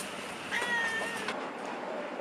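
A cat gives a short, mid-pitched meow in a room with steady background hiss and faint voices nearby.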